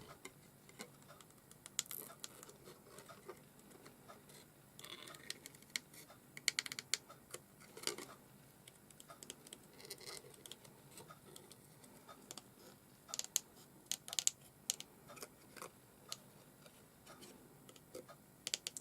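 Tim Holtz Tonic scissors snip through paper in quiet, brief crisp cuts, scattered irregular clicks close up against near silence.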